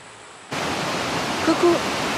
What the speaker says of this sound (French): il y a une magnifique cascade apparemment, donc là je descends pour voir la cascade